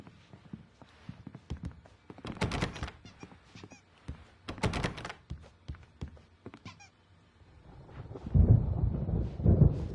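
Thunderstorm in the video game Alan Wake: scattered heavy thuds and crackling bursts come and go, ending in a louder, deeper rolling rumble.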